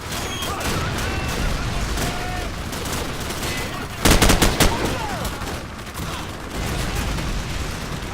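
Sustained automatic gunfire and bursts from a Call of Duty 4 battle, loud and continuous, with a dense cluster of sharp shots around the middle amid shouted game voices.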